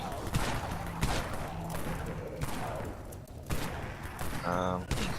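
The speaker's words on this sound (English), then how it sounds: "Maybe I'll just start shooting my shotgun." Shotgun blasts in the zombie game Dead Frontier during an outpost defense, several loud separate shots spaced about a second apart over game noise, with someone talking quietly.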